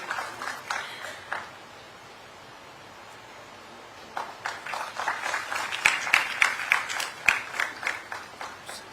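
An audience claps at the Shailesh Matiyani State Educational Excellence Award ceremony at Raj Bhavan, Dehradun: a short burst, a quiet pause, then a longer, swelling round of applause.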